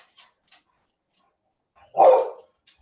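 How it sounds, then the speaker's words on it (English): A single dog bark rings out near the end, loud and close, standing alone after a few faint ticks in otherwise near-silence. "you will not hear your dog barking"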